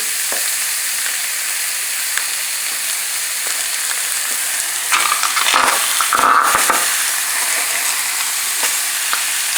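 Chicken thighs brown skin-down in a stuck-on regular pan, giving a steady bright sizzle with a few louder crackling bursts toward the end, close and without talk.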